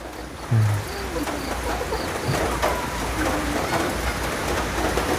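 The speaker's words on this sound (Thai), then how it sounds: "ฝนตก" Steady rain hisses across the whole clip, a dense continuous wash with a low rumble underneath and no voices.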